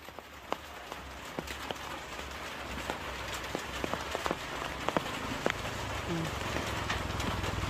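Steady rain patters on a surface outdoors near a rural bamboo hut and cassava garden, with scattered louder drips and splashes breaking through the continuous wash of drops.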